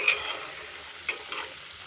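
Vegetable chop fritters fry in a pan of hot oil, giving a faint, steady sizzle with a couple of small ticks and pops over a quiet kitchen background.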